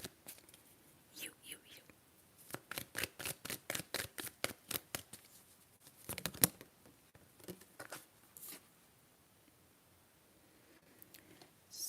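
Tarot cards are shuffled in a quiet ASMR setting, making a rapid run of soft, close riffling taps in the middle, with gentle card handling before and after; a whispering voice is heard at times.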